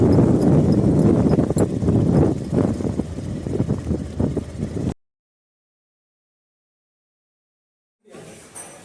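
Hooves clip-clop in a quick, even rhythm close by for several seconds, then silence before faint outdoor noise returns.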